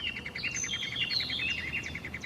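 A three-toed woodpecker feeds its young in a mountain forest rich in dying and dead wood. Rapid, evenly pulsed high chirps repeat steadily throughout, with other thin bird calls above them and no talking.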